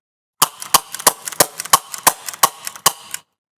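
Rekt CO2-powered Nerf pistol firing a rapid string of about nine sharp, loud pops in quick succession, close and alone with nothing else heard.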